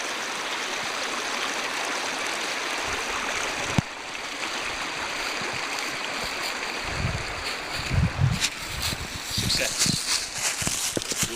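Rushing stream water flows steadily nearby as a backpacker wades across a major stream crossing, with splashing footsteps through the water growing louder toward the end; voices talk over it.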